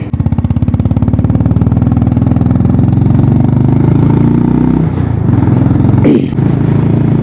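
Motorcycle climbing uphill on a mountain road in Spiti, its engine thrumming loud and steady right up close with a heavy low pulse, briefly easing off before pulling hard again, with no voices.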